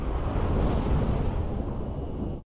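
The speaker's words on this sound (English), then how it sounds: "Then this is the actual explosion sound right here." Sound effect of a Halo 3 cruiser exploding: a steady, heavy roar like rushing wind and surf that holds loud and even for over two seconds before stopping dead.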